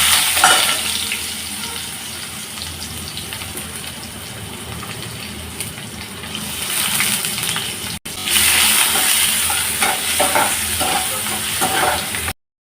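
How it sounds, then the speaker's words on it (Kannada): Chopped onions sizzling in a pan for veg noodles, a steady close frying hiss with occasional stirring scrapes, dipping briefly mid-way then continuing strongly. "ಈಗ ಇದಕ್ಕೆ ಕಟ್ ಮಾಡಿ ಇಟ್ಕೊಂಡ ನೀರುಳ್ಳಿ ಹಾಕೊಳ್ತೀನಿ"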